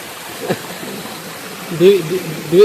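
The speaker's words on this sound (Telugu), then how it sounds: "ఇటొక వాటర్ ఫాల్ ఉంది" A waterfall rushes in a steady, broad wash of noise, while a voice speaks over it near the end.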